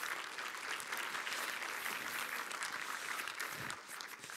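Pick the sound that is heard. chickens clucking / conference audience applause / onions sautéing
conference audience applause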